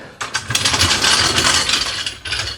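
A ratchet works on the bolts holding a motor being removed from its mounts, producing rapid, close metallic clicking and rattling in a dense burst lasting a couple of seconds.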